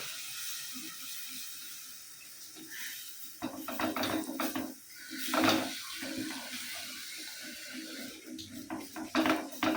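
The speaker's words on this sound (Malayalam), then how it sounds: "ഞാൻ കുറച്ച് വെള്ളം കൂടി ഒഴിച്ചു കൊടുക്കുന്നുണ്ട്" Water splashes and pours into a clay pot amid clinks and scraping of cookware, starting quietly and growing busier partway through, with no talking.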